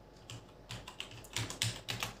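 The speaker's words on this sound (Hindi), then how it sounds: "हमें सिर्फ अपने कीबोर्ड से F10, शिफ्ट F10 करना है" Keys being typed on a computer keyboard while entering commands to fix a boot error on an Acer computer, a run of distinct close taps in small bursts, with no talking.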